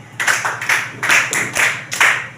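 A class claps together in about five separate bursts, each a short flurry of hand claps, fairly loud and close.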